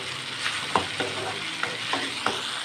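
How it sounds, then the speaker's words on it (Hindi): Spices roasting in a pan for a potato and capsicum dish, a soft continuous sizzle punctuated by evenly spaced spatula scrapes and taps, close and steady. "मसालों को हमने अच्छी तरीके इसमें भूनना है"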